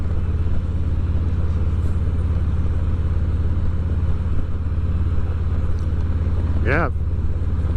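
A 2019 Harley-Davidson Ultra Classic cruises at 55 mph, its low engine rumble steady and continuous under heavy wind buffeting, with a brief spoken word near the start.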